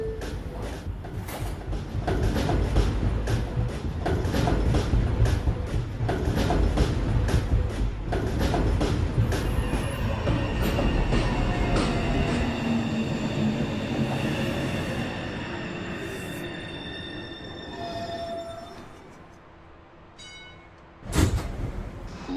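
A Manhattan-bound 2 subway train at Rector Street station rumbles and clatters loudly over the rails with rhythmic wheel clicks, then gradually fades with faint squealing before a sharp bang near the end; no voices.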